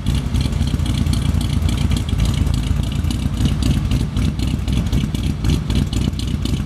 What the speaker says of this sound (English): Gotta love the sound of that flatty.